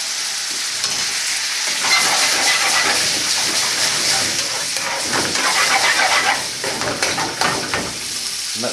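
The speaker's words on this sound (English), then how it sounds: "And let that bubble away." Bombay potatoes frying in a ladle of braised gravy over high heat, a steady dense sizzle and bubbling that stays loud throughout with occasional scraping stirs, no voices.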